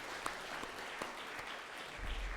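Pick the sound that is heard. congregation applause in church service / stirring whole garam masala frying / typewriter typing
congregation applause in church service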